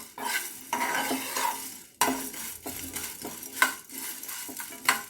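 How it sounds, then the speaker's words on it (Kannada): Coriander seeds, urad dal and chana dal frying for vegetable pulao, stirred with a spoon that scrapes the pan in repeated strokes over a soft sizzle, close and alone. "ಧನಿಯಾ ಉದ್ದಿನಬೇಳೆ ಕಡಲೆಬೇಳೆ ಫ್ರೈ ಇದ್ರೆ ಅದ್ರದ್ದು ಅರೋಮ ಅಂತೂ ಸೂಪರಾಗಿರುತ್ತೆ"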